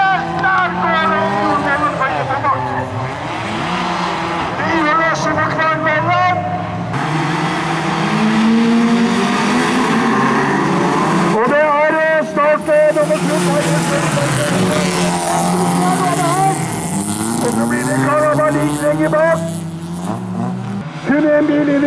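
Rallycross cars race at a bilcross event at Elverumfestivalen 2012, engines screaming and revving in overlapping waves as cars pass close, loud and continuous under excited commentary.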